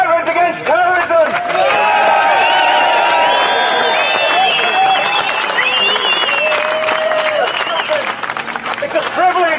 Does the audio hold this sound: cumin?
no